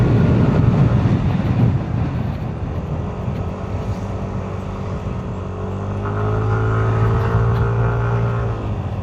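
A Yamaha NMAX V3 scooter engine held at full throttle, a steady loud drone with a rising, sustained tone toward the end, close and continuous with no talking.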